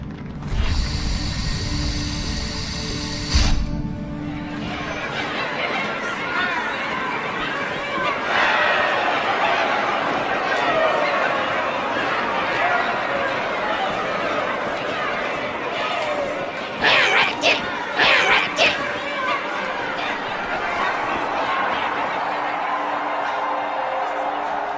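A crowd murmurs and chatters in the background in a Halo setting, with a brief clattering mechanical burst near the start and scattered sharper noises midway, all under a steady crowd din.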